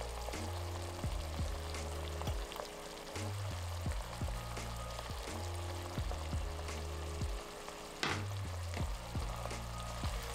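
Pan sizzling as wine is added for deglazing with red pepper flakes, oregano, basil and parsley, a steady faint hiss with periodic scraping stirs, no talking.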